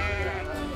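A sheep gives one short, wavering bleat lasting under a second. The call is close and loud, with no voices.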